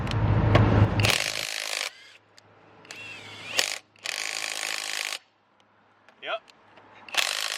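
A 1/2-inch impact driver hammers on car lug nuts in several loud, close bursts of rapid rattling impacts about a second long, separated by quiet pauses, with a brief spoken word in between.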